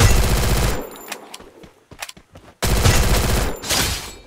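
Loud, close bursts of automatic gunfire from an MP40 in the Garena Free Fire shooter game. Sustained rapid volleys bracket a short gap of a few scattered single shots, with no talk.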